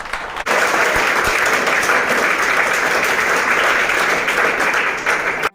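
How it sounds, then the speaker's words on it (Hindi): Audience at a Jain Classes 'Divide and Conquer' session in Jaipur bursts into loud, sustained applause. The clapping is dense and steady for about five seconds, then stops abruptly, with no talk over it. "पहले एक बार जोरदार ताली बजा दो।"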